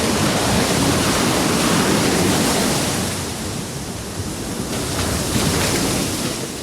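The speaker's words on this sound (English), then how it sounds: "You can hear the crashing waves clearly without any wind noise" Crashing ocean surf recorded on an Insta360 X6 camera roars loudly and continuously, a dense wash of breaking waves with no voices.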